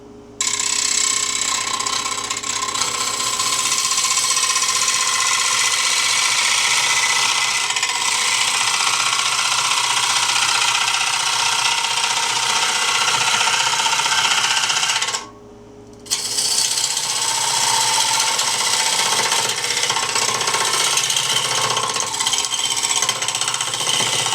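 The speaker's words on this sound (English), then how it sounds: "real thin parting tool here. Works very well, very sharp." A thin, sharp parting tool cuts into a wooden bowl spinning on a lathe, a loud, steady scraping whir that pauses briefly and then resumes.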